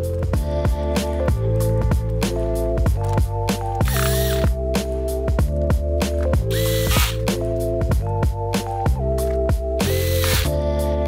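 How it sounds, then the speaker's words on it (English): Screws are driven back into the bottom cover of an Acer Chromebook Spin 511 R753T, a steady run of rapid ratcheting clicks from a screwdriver, close and loud, repeating in bursts with brief scraping pauses and no talk. "And put the bottom cover screws back in."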